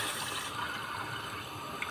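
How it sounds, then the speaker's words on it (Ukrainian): Liquid is poured steadily into a container for a couple of seconds, a soft continuous splashing trickle close by, with no voices over it. "Давайте подивитися, як я наливаю."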